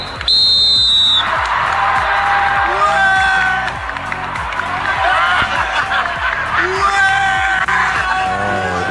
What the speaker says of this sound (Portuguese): todo o estádio reagiu ao apito dos fãs.